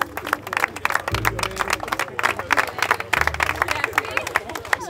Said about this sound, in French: Bravo tout le monde. On peut s'applaudir.